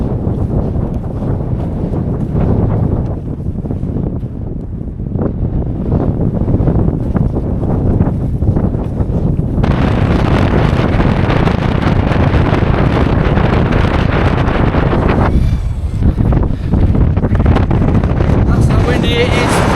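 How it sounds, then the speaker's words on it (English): Heavy wind of about 40 mph buffeting the microphone at a wild camp in loud continuous roaring gusts, growing stronger midway and staying fierce. "That's how windy it is."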